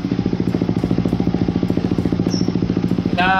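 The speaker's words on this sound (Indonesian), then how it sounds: "Ini untuk posisi idle-nya guys, kayak gini." Yamaha Vixion Adventure motorcycle fitted with an aftermarket exhaust idles close by, a steady deep bassy pulsing thump that keeps an even rhythm throughout, with a brief higher whine near the end.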